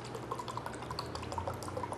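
Soy milk pouring into a non-stick pan, a quiet, continuous liquid trickle with small dripping splashes over a low background hum.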